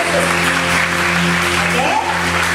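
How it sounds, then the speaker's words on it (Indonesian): Enthusiastic applause for Jesus at a children's church revival service, a dense crowd clapping loudly and continuously throughout, with a steady hum underneath. "ayo berikan tepuk tangan yang meriah buat Tuhan Yesus"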